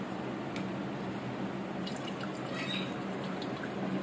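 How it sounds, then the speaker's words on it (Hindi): Water running into a kitchen sink during dishwashing, a steady close splashing stream with a few bright drips and clinks over a low hum. "चलें फिर चलते हैं बर्तन वगैरह धोते हैं।"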